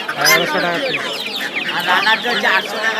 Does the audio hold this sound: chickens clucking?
yes